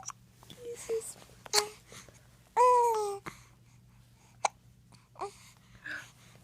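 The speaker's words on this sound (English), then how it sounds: "Do you want to kiss your hiccups away?" A baby hiccups a few times in short, sharp bursts, mixed with soft babbling and a brief whiny wail, all close and fairly quiet.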